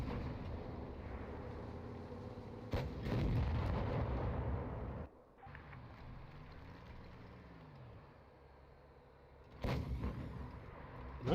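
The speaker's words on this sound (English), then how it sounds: "Nice missile shot." A missile explosion in a competitive video game match, with sharp blasts near the start and end and a lower rumbling stretch between them, heard at a fairly low level.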